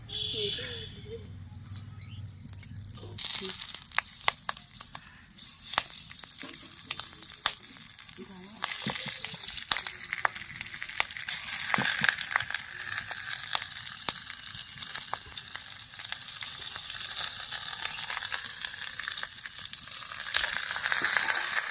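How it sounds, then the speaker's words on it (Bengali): A banana leaf parcel of puti fish paturi fries in a kadai over low heat, a steady sizzle with scattered clicks and crackles, while birds chirp faintly in the background. "কড়াইয়ের মধ্যে কলার পাতাটা দিয়ে দিলাম।"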